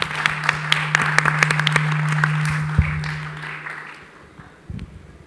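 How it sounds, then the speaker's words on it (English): A conference audience at a crypto industry event applauds a panel, a crowd of clappers with a few sharp individual claps, a sustained hum running beneath, thinning out into quieter scattered sounds near the end. "Please join me in a round of applause for the panel"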